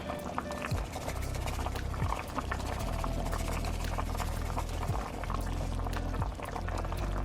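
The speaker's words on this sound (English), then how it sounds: "these beans have come to a boil" Pinto beans with smoked turkey wings at a boil in a pot on the stove, a steady bubbling and rumbling wash with scattered pops and low thumps, continuous and fairly loud throughout with no voices.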